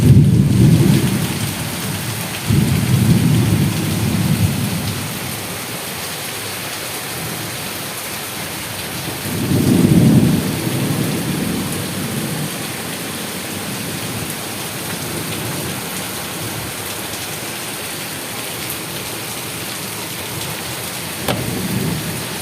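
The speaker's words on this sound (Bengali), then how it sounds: "এই বছরের প্রথম এত এইরকম মুষলধারে বৃষ্টি হলো, প্রথম।" A heavy monsoon-style downpour pounds a rooftop in a continuous, loud roar of rain, with deep rumbles of thunder swelling and fading at intervals.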